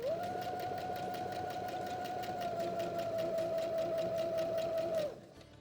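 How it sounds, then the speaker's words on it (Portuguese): A sewing machine runs a straight seam through fabric in one continuous, close burst of about five seconds, a steady whirring hum with fast needle clatter, then stops abruptly. "Aí a gente vai, então, com costurinha reta"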